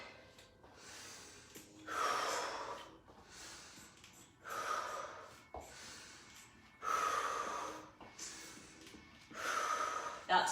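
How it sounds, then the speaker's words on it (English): Heavy, rhythmic breathing during a HIIT lower-body strength workout: about six forceful gasping and snorting breaths in quick succession, close to the mic, separated by short quieter pauses. "Keep that breathing going. Breathe in through your nose,"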